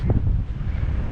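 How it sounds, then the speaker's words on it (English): Wind buffets the microphone at a beach with waves rolling in, a loud low rumble that gusts strongest at the start and stays steady afterward. "It's windy, it's wavy"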